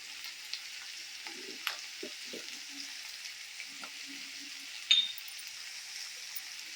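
Urad dal and chopped vegetables fry in a pan for a Telugu kadamba pachadi, a steady soft sizzle with scattered low stirring scrapes and a sharper clink near the end, no talking.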